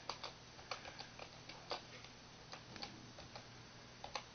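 Keys on the Altair 8800 Micro prototype keyboard click in an irregular sequence of light, close taps, quiet and crisp, with no voices.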